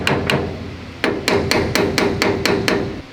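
A hammer taps on a steering part of a Panhard EBR 90 armoured car under restoration, giving two light knocks, then a steady run of about eight evenly spaced, sharp metallic strikes close by.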